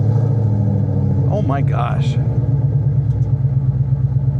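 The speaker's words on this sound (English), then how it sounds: "As good as the car sounds." A Ford Mustang with a Coyote engine idles with a loud, steady low rumble, and a person's brief exclamation rises over the engine partway through.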